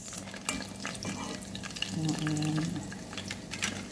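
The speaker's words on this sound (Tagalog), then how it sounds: "Naglipara ng mga mantika." Oil spatters and crackles steadily in a pan as vegetables fry, a continuous sizzle with scattered pops and some stirring, while a person talks quietly in the background.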